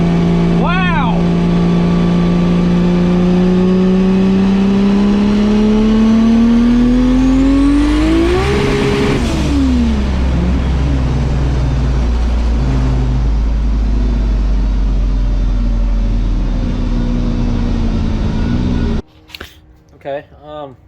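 A 1200hp 2JZ-swapped Nissan 240SX accelerating hard from inside the cabin, engine pitch climbing steadily to a loud peak, shifting, then roaring on before cutting off abruptly near the end.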